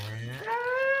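A single loud cow moo, starting low and rising into a drawn-out bellow that holds to the end, close by.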